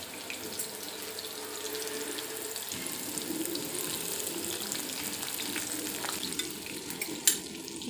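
Food frying in hot oil in a kadai on a gas stove, with a steady broadband sizzle and crackle throughout and a low hum that drops out early on, plus a brief clink near the end.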